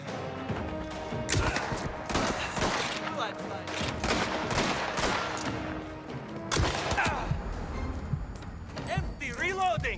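Dense, rapid gunfire in Mafia: The Old Country, overlapping shots and clattering impacts throughout with metallic reload clicks, close and loud, while a voice talks over the action.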